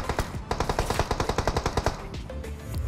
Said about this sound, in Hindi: कोई तो भी पोरा यहाँ पे गोला बारूद मार रहा है।